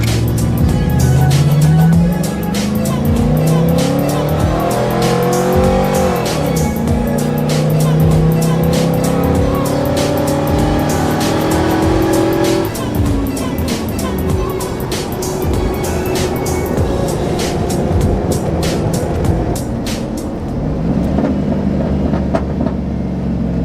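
A lifted, tuned gas truck launches hard from a dead stop, engine loud and close, revving up through several rising gear pulls before settling. Voices talk under the engine noise.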